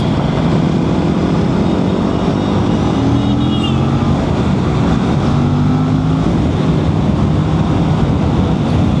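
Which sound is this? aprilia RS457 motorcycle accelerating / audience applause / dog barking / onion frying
aprilia RS457 motorcycle accelerating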